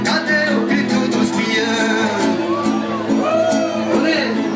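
A party crowd shouts and whoops in a dense, continuous roar with rising cheers, with amplified voices mixed in over the noise.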